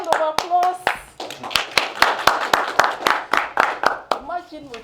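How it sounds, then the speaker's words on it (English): A small audience claps for about five seconds at a Toastmasters gathering, separate sharp hand claps ringing out in an irregular rhythm, close and moderately loud, with voices talking and laughing around them. "A round of applause."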